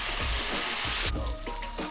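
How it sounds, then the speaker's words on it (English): Bacon sizzles loudly on a Pit Boss five-burner griddle, a dense crackling hiss, with spatula scrapes and taps as strips are flipped partway through. "flip our bacon"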